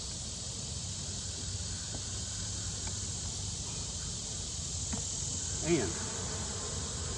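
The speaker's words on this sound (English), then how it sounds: "it's got bees" A steady, dense hum of bees around a hive fills the air, with a constant high buzzing drone and a faint voice briefly near the end.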